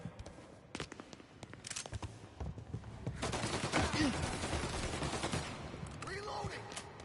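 Gunfire during a stairway shootout in Mafia: Definitive Edition: scattered single shots give way to dense, continuous volleys from several guns, with shouting voices under the shooting.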